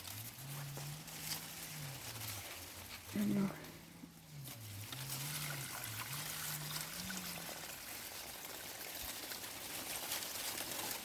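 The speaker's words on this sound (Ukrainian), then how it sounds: "Так, зараз я водичку тут зілю." Water trickles and patters steadily onto garden plants as it is poured, a continuous soft splashing stream beneath a steady low voice talking throughout.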